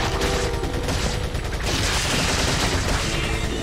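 Dense, continuous gunfire from Resident Evil 4, with rapid shots and booms blending into a loud, sustained fusillade throughout.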